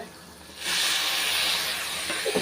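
Drumstick leaves dropped into a hot pan for sautéing, a sudden loud hissing sizzle that starts after a quiet moment and holds steadily to the end.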